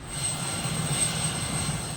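A steady, loud rotor and engine drone of a Philippine Air Force Sokol helicopter, continuous with no talking.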